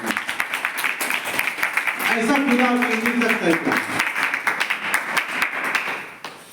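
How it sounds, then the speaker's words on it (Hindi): A church congregation claps in a quick, scattered burst beneath a preacher's raised voice delivering a Hindi sermon, the applause swelling and then thinning out. "जोरदार ताली बजाकर"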